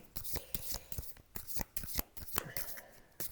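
Playing cards drawn and handled from a deck, a quick series of close, soft slaps and papery flicks coming in an irregular rhythm, with faint murmuring in the background.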